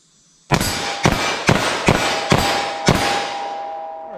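.357 SIG handgun fired five times in quick, slightly uneven succession, each report loud, sharp and close, followed by a ringing tail.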